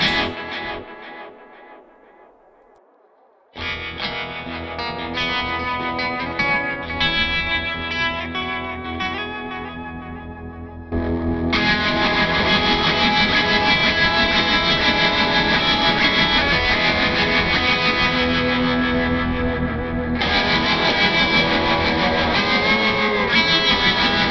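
Shoegaze-style Fender Jaguar electric guitar run through a Line 6 HX Stomp with layered effects, swelling from a fading note into loud, dense, washed-out chords heavy with distortion, chorus, echo and reverb, growing louder midway and sustaining throughout.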